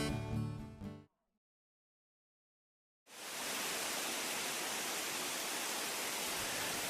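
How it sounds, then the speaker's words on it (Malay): The roar of Sipiso-Piso waterfall at Lake Toba, Indonesia, sets in abruptly after a brief silence and holds as a dense, steady rushing wash, preceded by a short burst of singing at the start. "Air terjun Sipiso-Piso adalah salah satu air terjun tertinggi di Indonesia."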